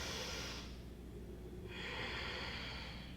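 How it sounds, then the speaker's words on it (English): Deep, slow breaths during a yoga flow, one long airy exhale followed by a pause and then another drawn-out breath, close and quiet. "Breathing here, nice and deep."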